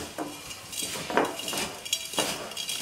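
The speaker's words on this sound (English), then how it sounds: "Now obviously we mix this nicely." Salt, sugar, cracked pepper and dill are stirred together for a cure in a bowl, giving soft scraping and a few light clinks of a utensil in short uneven strokes, close and fairly quiet.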